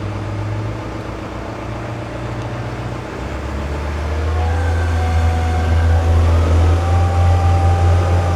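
Heavy construction equipment spinning its wheels on frozen ground at a house build site, a loud, continuous engine drone that rises and strains midway through with a steady grinding rumble and no talk.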